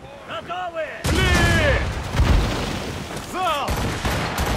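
Heavy booming ship cannon blasts fire repeatedly amid loud battle noise in Assassin's Creed Rogue, with shouted voices and harmonic tones layered over the explosions.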